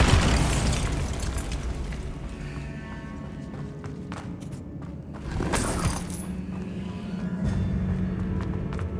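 Bombarda spell blasts in the Hogwarts Legacy video game, a loud burst at the start and another around the middle, with rumbling booms and debris over a low game soundtrack.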